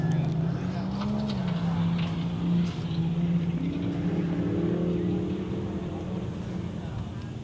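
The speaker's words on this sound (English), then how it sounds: "Listen to it hum." An offroad rally car's engine hums and drones on a stage, with the pitch rising and falling as it passes. Wind rustles throughout and a voice talks over it.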